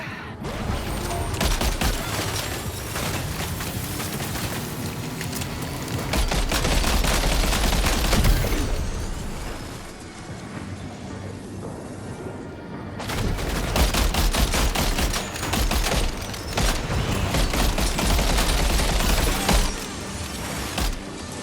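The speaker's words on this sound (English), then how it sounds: "Open fire." Gunfire in the Death Stranding 2 video game, sustained bursts of shots rattling almost continuously with a short lull partway through before the firing resumes, loud and dense with no talk over it.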